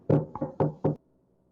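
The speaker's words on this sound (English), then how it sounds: "I will knock on the door." Four firm knocks on a door, close and loud, the second slightly lighter, then silence.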